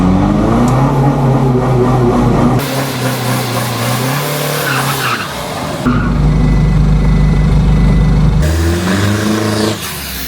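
Diesel Isuzu D-Max pickups launch hard at a drag strip, one stock-turbo 1KD and one modified-turbo 2KD, their loud engines roaring and climbing through rising gear pulls, with abrupt cuts between runs.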